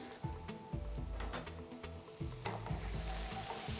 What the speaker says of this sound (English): So I'm just going to saute it till the onion turns slightly golden brown